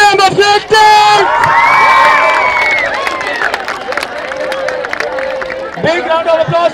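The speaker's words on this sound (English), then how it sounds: "Big round of applause for all the winners," At a school commemorative marathon prize-giving, a loud, close crowd of children cheers and shouts for the winners, with whoops and clapping in a lively burst that fades a little before rising again.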